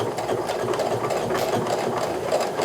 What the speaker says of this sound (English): So now I'm moving my sewing machine needle as far to the right as I can.